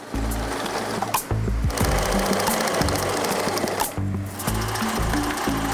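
A sewing machine stitches plastic fabric in a rapid, loud, steady mechanical whir, pausing briefly twice before resuming, with no talking.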